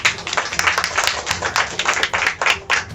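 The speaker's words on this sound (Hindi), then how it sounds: "डॉक्टर अजय शर्मा सर, इनके लिए जोरदार ताली होनी चाहिए" A crowd applauds, dense clapping rising and falling in waves, loud and close, with no talking.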